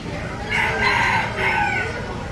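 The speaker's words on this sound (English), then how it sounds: "Look at the chickens over there." Chickens at a state fair livestock area give loud, drawn-out calls in two swelling bursts over a steady background murmur of the fairground.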